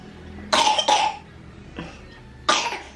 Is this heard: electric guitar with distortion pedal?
no